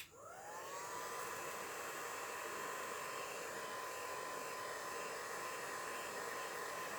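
A hair dryer spins up and blows in one continuous, even whoosh to dry pink alcohol ink, with no other sounds over it.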